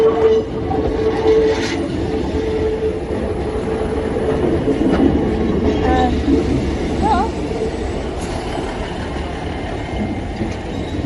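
A Class 150 diesel multiple unit train runs on the Calstock to Gunnislake line with a steady, loud rumble of engine and wheels throughout, faint clicks and a brief squeal over the rail noise.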